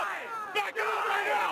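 A dense crowd of counter-protesters in Washington, D.C. yells and chants together in a loud, sustained roar close by, with a sharp shout rising out of the mass partway through.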